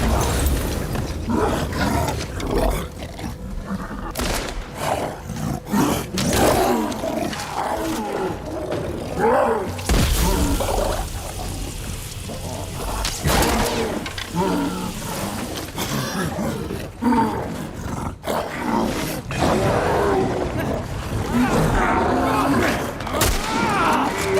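A large infected creature in The Last of Us lets out repeated growling roars amid tense game noise and bursts of gunfire, with a voice talking now and then.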